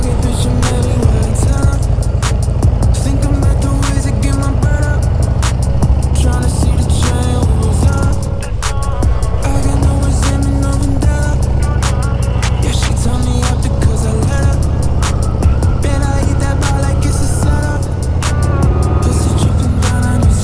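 A Harley-Davidson motorcycle rides along the Malta Hochalmstraße mountain road, its engine droning loud and steady throughout with rushing wind noise, close and continuous.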